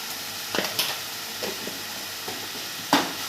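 Ginger garlic paste fries in a pan for a seafood fish curry, giving a steady soft sizzle with a few sharp stirring scrapes and clicks scattered through.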